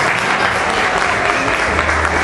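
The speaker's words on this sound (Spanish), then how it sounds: "Y un aplauso para los niños." Loud, sustained applause for children from a large crowd at a festive show with orchestras and guest artists, an unbroken roar of clapping.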